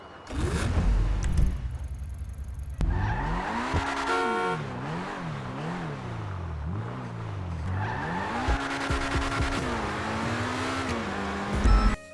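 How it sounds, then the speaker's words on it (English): A sports car engine revs repeatedly in a racing game, its pitch rising and falling through gear shifts, with tire squeal and skidding, loud and close. "The car was very fast and it even sounded incredible."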